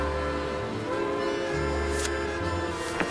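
Train rolling along in the Mata Hari video game, a steady low rumble with tonal whistle-like hums and a couple of brief hissing bursts, continuous and fairly loud, no talking.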